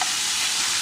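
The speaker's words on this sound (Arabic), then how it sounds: "احنا بس عايزين نشوحهم على النار" Onion, carrot, tomato and chili pepper sauté in a hot pan with ghee or butter, giving a steady, close, even sizzling hiss that holds unbroken throughout.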